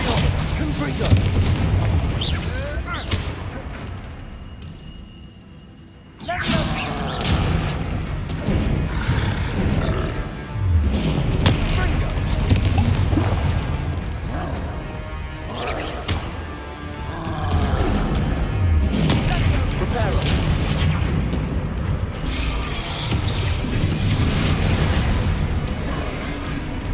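Spell blasts and explosive booms in a troll fight in Hogwarts Legacy, with heavy low rumbling impacts and roars stacked densely over the whole stretch, a brief lull near the start, then continuous loud battle noise.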